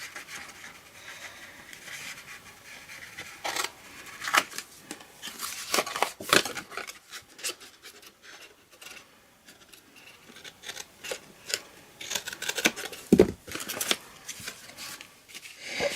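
Scissors cutting card stock for a Halloween treat box, close crisp snips and paper rustles coming in irregular bursts with quiet gaps between, no talk.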